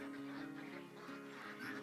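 Swedish ducks on a duck farm in Kenya quack softly and continuously, a faint nasal chatter of several birds with no talk.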